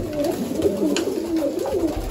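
Pigeons in a loft coo in soft, repeated rolling calls, several birds overlapping close by against a steady background hum.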